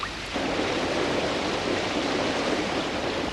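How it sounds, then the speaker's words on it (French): Heavy cartoon rain pours down over a valley, starting abruptly and then holding as a dense, even hiss of downpour. The rain is loud and close, with no voices. "Il pleuvait comme jamais il n'avait plu dans la vallée des Moumines."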